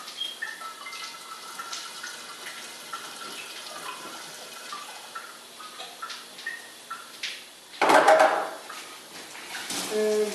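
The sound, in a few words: water poured into container for juice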